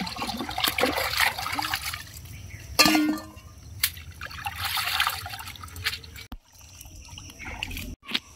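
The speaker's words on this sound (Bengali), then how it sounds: "এটাকে আমি ভালো করে আগে ধুয়ে নিয়ে আপনাদেরকে দেখাচ্ছি" Running water rinses cleaned catfish (singi), a steady trickle and splash that swells and fades in bursts, with a brief louder splatter partway through and no talk.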